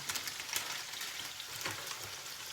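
Food frying in oil in a pan, with a steady close crackle and fine popping sizzle running throughout, with no talking.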